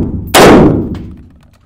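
A Swiss rifle fires a single sharp, loud shot at an outdoor shooting range, its blast decaying over roughly a second with a faint ring.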